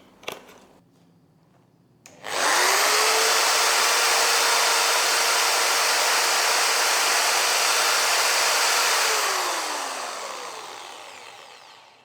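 A Kodenki KDK-EID113 13mm impact drill spins up sharply from quiet and runs without load in a loud, steady high-pitched whine for several seconds, then winds down gradually.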